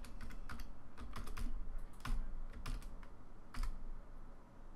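Computer keyboard typing while writing Android code, bursts of quick clicky keystrokes separated by brief pauses, close and fairly quiet with no talking.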